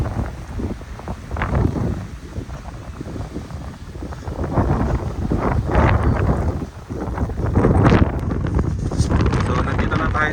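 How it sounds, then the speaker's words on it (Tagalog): Strong, gusty wind in a Manitoba winter blizzard buffets the microphone in loud, roaring surges that rise and fall for about ten seconds, with faint voices underneath. "kasi malakas yung hangin"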